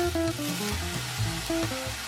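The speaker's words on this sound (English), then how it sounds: "Then add the rice into the pan. Stir fry to warm up the rice." Rice and softened eggplant are stir-fried in a hot pan, a constant dense sizzle with scraping stirs, close and steady, while soft background music plays.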